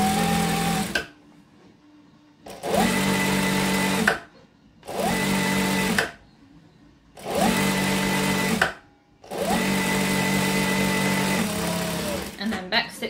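A sewing machine stitching fabric for an apron runs in four or five steady whirring bursts separated by brief pauses, loud and close, with a voice talking in the gaps.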